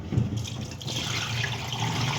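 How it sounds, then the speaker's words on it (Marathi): Wheat grains swish and slosh in water while being washed, a close, continuous watery churning with a low rumble. "गहू आता पुन्हा 1 ते 2 पाण्याने धुवून घ्यायचा आहे"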